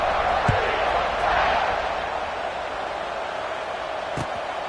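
Steady crowd roar at a football stadium, buzzing in a dense, continuous wash of many voices, with a couple of brief sharp thumps, moderately loud throughout.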